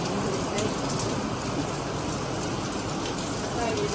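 Steady morning rain pouring down in windy weather in Surat, a dense continuous hiss with no breaks, moderately loud and close.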